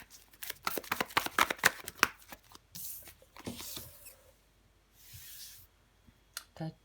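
Tarot cards shuffled and a single card drawn during a love reading: a quick run of crisp, close papery flicks and snaps, then softer brushing and a couple of isolated taps.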